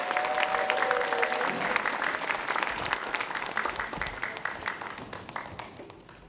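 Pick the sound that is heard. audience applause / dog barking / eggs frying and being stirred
audience applause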